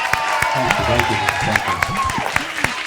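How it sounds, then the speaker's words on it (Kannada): An audience at a singing reality show applauds in a steady, loud patter of clapping with scattered cheers, while music plays and a voice speaks over it. "ಅದಕ್ಕೊಂದು ಜೋರಾದ ಚಪ್ಪಾಳೆ"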